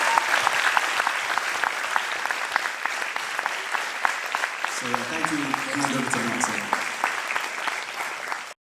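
Warm applause for the kids after a school play, a crowd clapping steadily and fairly close, while a voice speaks over the middle before the clapping cuts off abruptly.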